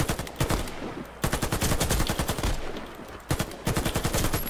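Bursts of rapid automatic fire from an AK-103 rifle in the online shooter Warface, loud and close, several long strings of shots separated by brief pauses, with no talking over them.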